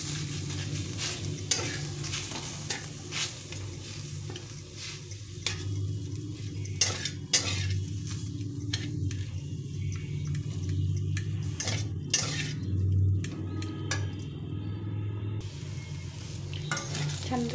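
Chhana, fresh paneer, fries in ghee in a pan with a continuous crackling sizzle, punctuated by repeated clinks and scrapes of a spatula stirring against metal, close and fairly loud with no voices.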